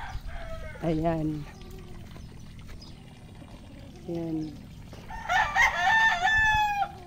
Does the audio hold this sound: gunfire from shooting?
no